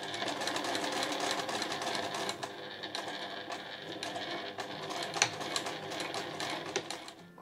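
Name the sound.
sewing machine backstitching a fabric pouch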